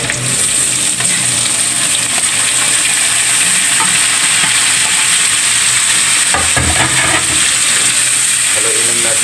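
Pork intestines (isaw) sizzle loudly in a hot pan as they cook for dinuguan, a continuous close frying hiss with brief stirring clatter partway through.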